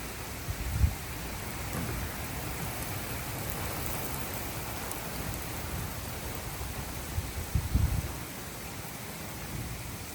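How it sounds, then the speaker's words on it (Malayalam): Wind and rain at the onset of Hurricane Helene. A dense, steady hiss fills the whole stretch, with a couple of low gusty thumps rising above it. "ഭയങ്കര കാറ്റ് ഭയങ്കര കാറ്റും മഴയായിരിക്കും അപ്പോൾ ഇപ്പം തുടക്കം ഒന്ന് എടുത്തതാണ്"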